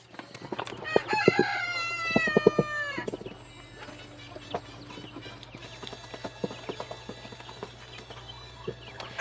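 Chickens cluck and a rooster crows loudly in the opening seconds on a backyard flock farm, then scattered clucks, scratching and clip-clop-like thumps continue at moderate level with no talking.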